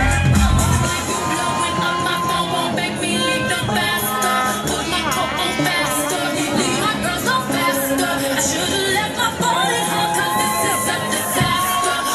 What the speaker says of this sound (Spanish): Fuerte los aplausos para Alicia Ariana González Figueroa